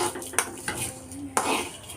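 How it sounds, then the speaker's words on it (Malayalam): A metal utensil scrapes and clinks against a pan in a few quick strokes while scooping fried lentils out of hot oil, with a faint sizzle of oil underneath. "ഇനി ഇത് നമുക്ക് കോരിയെടുക്കാം"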